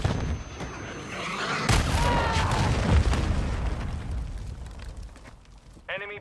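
Cruise missile strikes in the video game Call of Duty MW2, a heavy boom with rumbling blast noise that swells and lingers before fading, and a brief game voice near the end.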